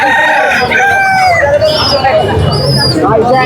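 Chickens and a rooster crow and cluck loudly together at a busy duck and chicken market, overlapping calls filling the air with a low crowd murmur beneath.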